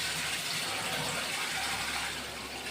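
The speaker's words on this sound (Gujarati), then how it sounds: "પાણી તપેલી આપણે ભરીશું આમાં" Water pours steadily into a cooking pot in a kitchen while making paneer, a continuous soft rushing splash with no voices, fairly faint.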